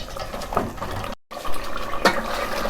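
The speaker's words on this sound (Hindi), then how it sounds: "जितना आपको पानी चाहिए होगा उतना आप पानी डाल सकते हैं।" Water splashes from a vessel into a pot of fried meat and arvi for arvi gosht, a gurgling pour with a brief pause midway and a sharper splash near the end, close and unaccompanied.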